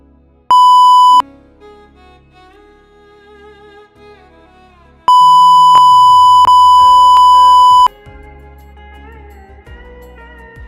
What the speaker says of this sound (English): the beep sound will be heard at that time.